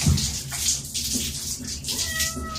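A Ragdoll cat meows repeatedly during a warm bath, a steady run of close, moderately loud cries over splashing water.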